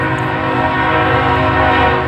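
A loud, sustained train horn blares continuously over the rumble of a passing train, close by and steady throughout.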